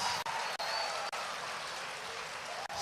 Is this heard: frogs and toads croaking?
no